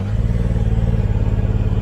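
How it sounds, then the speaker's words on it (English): Ford Maverick R engine held on a two-step launch control in Sport Plus mode, a close, rapid rhythmic flutter pulsing steadily over a low rumbling idle. "That flutter right there, that's a two-step."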